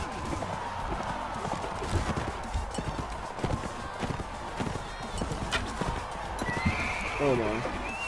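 A horse in the video game Mount and Blade Warband whinnies and gallops with rapid clip-clop hooves, while someone talks over the game's busy battle noise.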